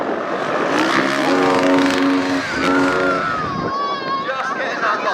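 A stunt motorbike's engine revs hard in mid-air during a jump at a motoring pageant, its pitch climbing and falling in sharp bursts up close while a voice talks over it.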